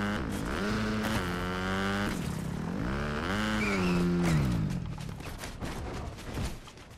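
A motorbike engine in Fortnite, revving and droning with rising and falling pitch while popping wheelies on a mountainside, loud and continuous before easing off near the end.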